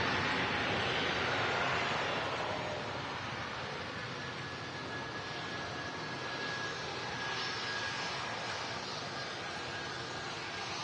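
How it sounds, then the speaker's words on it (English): A Ryanair Boeing 737 MAX jet rolls off the runway on a rapid exit after landing at Manchester Airport, a steady broadband engine roar and whine, loudest at first and then holding at a moderate distance. "rapid exit for this Ryanair Max"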